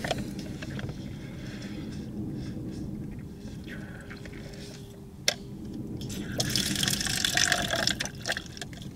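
Water back flushing through a Membrane Solutions survival straw filter, a steady wet trickling and gurgling flow that swells louder toward the end, with one sharp click midway and no talking.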